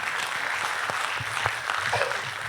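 Applause from an audience at a French talk on protecting biodiversity, a steady wash of clapping under a few louder individual claps, fairly distant and continuous throughout.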